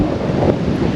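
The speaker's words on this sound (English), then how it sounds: "this bad a wind for this long" A gusty wind of about 25 mph on a garden walk buffets the microphone with loud, close, rumbling roar for a brief moment.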